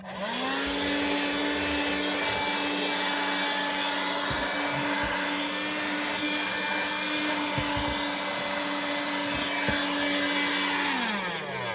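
An InnoLife 4-in-1 handheld car vacuum runs steadily, its motor whine spinning up at the start and winding down at the end, with small crackles and ticks as dirt is sucked in close by.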